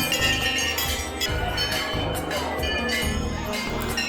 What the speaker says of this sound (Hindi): इसका आवाज़ भी हर वक्त घंटियों का ही आता है